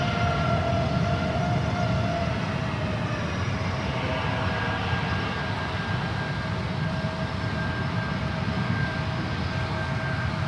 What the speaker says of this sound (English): Potential double landing on the 28s happening next.